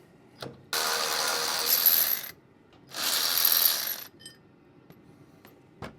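A ratchet wrench loosens the factory 17mm bolts on a 4th gen Toyota Tacoma, sounding as two long, steady clicking runs separated by a pause, close and clear, with a few faint metallic taps around them.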